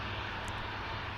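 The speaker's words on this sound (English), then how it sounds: "I got a Sikorsky Blackhawk." A Sikorsky Black Hawk helicopter in the distance near an airport: a steady, broad engine roar with a low rumble, continuous and fairly loud, with no voices.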